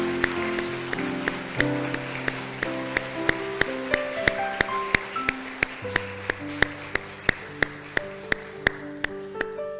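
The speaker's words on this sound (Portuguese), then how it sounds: "Vamos dar uma salva de palmas para Jesus." Steady rhythmic clapping from a church congregation keeps time over sustained keyboard music during a service, a regular beat of claps running throughout.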